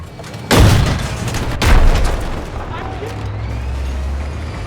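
Tank cannon fire in the video game Battlefield 6, two heavy booming blasts about a second apart with a rumbling tail that fades under a low engine drone.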